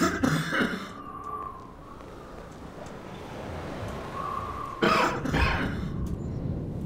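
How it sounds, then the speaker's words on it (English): Two bursts of harsh coughing from a character in the video game Garry's Mod, one at the start and another near the end, separated by quieter background noise; no speech. "automatic coughing incoming"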